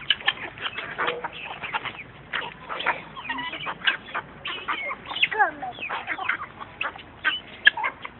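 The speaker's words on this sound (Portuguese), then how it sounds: "Tá dando papá pra galinha?" A flock of chickens cluck busily while pecking at feed, many overlapping calls in a constant chatter over the whole stretch, close by and fairly loud.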